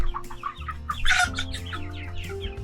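Several hens and very small chicks cluck and peep nearby, short overlapping calls in a steady farmyard babble with one louder squawk near the middle.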